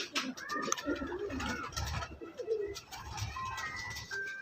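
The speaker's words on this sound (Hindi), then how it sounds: "ये एक रिकॉर्ड होल्डर कबूतर है।" A record-holding breeder pigeon coos in a busy loft, its soft repeated calls mixed with other bird chirps and background voices at moderate loudness.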